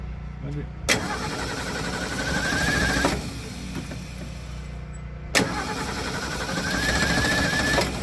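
The engine of a Ford Ranchero cranks and catches twice, running with a rough mid-pitched drone for a couple of seconds each time, loud and close, with a faint voice in the gap.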